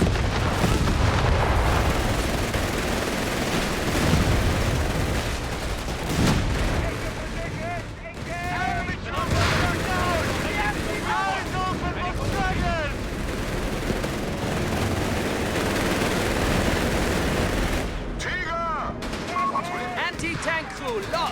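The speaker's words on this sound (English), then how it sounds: "Aerial bombardment incoming!" Aerial bombardment in the World War II strategy game Company of Heroes 3: a steady barrage of explosions, booms and rattling machine-gun fire throughout, with battlefield voices shouting over the constant din.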